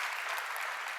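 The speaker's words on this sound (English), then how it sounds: "A round of applause for the Commissioner." An audience claps for a European Commissioner at the close of a conversation event, dense steady applause from a room full of people throughout, no voices above it.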